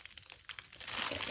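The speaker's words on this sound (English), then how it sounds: "put both of them in here like that. And then just kind of wrap that up." Crinkling, rustling wrapping material as items are wrapped while packing a shipping order, close and fairly loud, growing denser and steadier toward the end.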